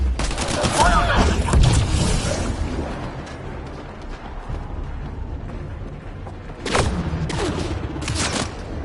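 Heavy gunfire crackles through a firefight in the video game Mass Effect Andromeda, with dense bursts of shots at the start, a quieter stretch in the middle, then another loud volley near the end.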